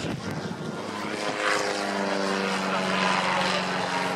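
A radio-controlled Fokker Dr I triplane model's engine buzzes with a propeller drone that swells and shifts pitch as the aircraft passes, steady and moderately loud with no talk.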